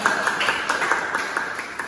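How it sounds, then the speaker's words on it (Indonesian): Classroom participants clap together during a teaching practice session, a steady patter of many hands that runs evenly and fairly close throughout. "Ya, tepuk tangan dulu untuk pemirsa."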